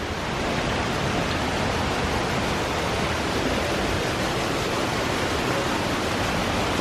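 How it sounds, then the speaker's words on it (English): Water rushes and splashes steadily and loudly around the water wheel at Eskdale Mill near Boot, a dense unbroken roar with no voices. "there's the water wheel"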